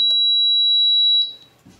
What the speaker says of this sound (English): you can see the lag pump come on and the alarm.